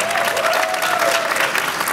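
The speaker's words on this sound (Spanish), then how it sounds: "les pido un aplauso para esto." Studio audience applause at a Spanish-language talk show, a dense, steady wash of clapping that holds loud and even for the full two seconds with no voices over it.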